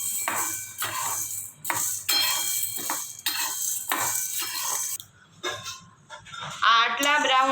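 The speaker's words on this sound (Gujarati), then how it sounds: "હવે એને શેકશું। મીડિયમ ગેસ રાખી અને એને શેકવાના છે।" About a quarter cup of soybeans is dry-roasted in a pan over medium gas, a utensil scraping and clinking in repeated strokes that drop to quieter pauses. A brief voice-like sound rises near the end.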